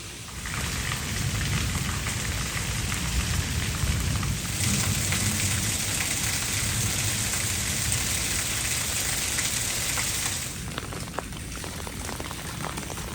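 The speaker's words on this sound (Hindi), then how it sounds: "बहुत तेज़ बारिश हुई है।" Heavy, steady rain pours down on a village in a dense, continuous roar, loud and close, easing slightly near the end.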